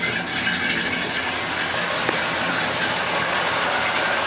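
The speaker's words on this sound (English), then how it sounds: "All I got to do is pull my choke out. It'll idle it on up." A small engine with a repaired carburetor idles with the choke pulled out, a steady loud mechanical drone that stays even throughout, with no speech.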